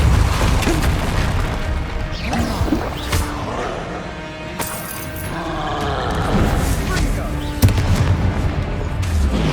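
Repeated magical spell explosions from Confringo and Bombarda in Hogwarts Legacy sound as loud booming blasts and crashing impacts in rapid succession over a dense game soundtrack.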